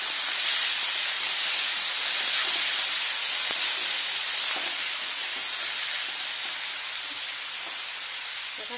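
Chopped carrots, peas and eggplant sizzle in a hot pan, a loud, steady hiss of frying that holds through the whole stretch, fading slightly toward the end.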